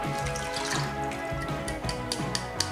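Liquid from beans and corn pours and splashes steadily into a container close by, with a few small drips and clinks toward the end.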